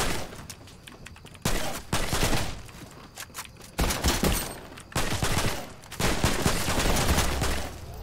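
Loud automatic gunfire from a weapon in the Fortnite video game, fired in several long sustained bursts separated by short pauses, close and dominant with no talking.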